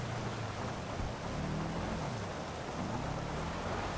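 Rain falling in a rally car racing video game, a dense steady wash of noise with a low rumble beneath, constant throughout and without talking.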